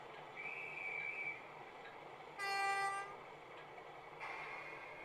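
A model train's shrill guard's whistle sound blasts over the steady rumble of the small running locomotive, with a second fainter whistle near the end.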